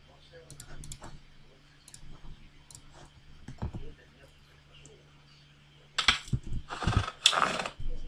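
Sharp flashlight toggle clicks for a Unity 3D game, quiet scattered clicks early on, then a louder, denser burst of clicking toward the end, with faint background noise.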